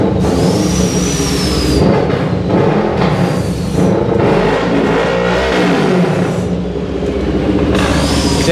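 CFMoto 800MT motorcycle engine revving loudly with its exhaust removed, a continuous rough, open-pipe roar that rises and falls across the whole stretch with no talk.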